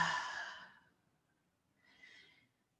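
A deep breath exhaled through the mouth during a calm guided movement session: one soft, airy, close sigh fading out, followed after a pause by a fainter second breath.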